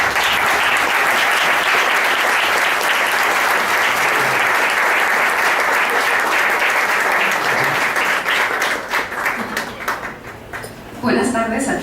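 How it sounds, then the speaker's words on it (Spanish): Sustained applause from an audience at a university history conference on memory and justice in Guatemala, steady and dense for about nine seconds, then thinning out near the end as the clapping dies down. "Les pido un aplauso para ella."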